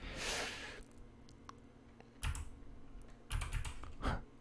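Keystrokes on a computer keyboard come in quick clusters of taps, close and clear, after a brief rush of noise at the start, with no talking.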